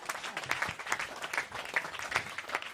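Audience applause at a Dutch stage event, a dense patter of many hands clapping steadily at moderate volume throughout, with no talk over it.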